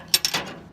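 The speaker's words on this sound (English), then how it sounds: "Good hiss on this one." Home brew beer bottle being opened, a short sharp burst of gas hiss with a quick second release, then fading, close and alone.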